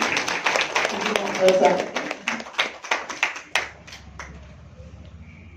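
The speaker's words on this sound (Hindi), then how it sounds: "इनके लिए जोरदार तालियां।" An audience at a Brahma Kumaris Women's Day programme breaks into a burst of clapping that fades out over a few seconds while a host speaks into a microphone over it.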